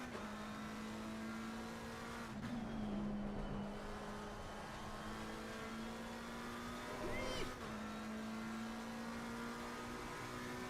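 A McLaren race car in a racing game holds a steady, high-revving engine whine with brief gear-shift dips and a squeal, fairly faint and continuous, with occasional voices underneath.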